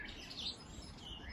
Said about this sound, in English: I know you've been on our little bird feeder.